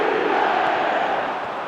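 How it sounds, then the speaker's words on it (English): A dense football stadium crowd roars continuously at a Barcelona versus Real Madrid match, a loud, broad swell that holds steady and eases slightly toward the end. "the crowd level has gone up a notch or 10"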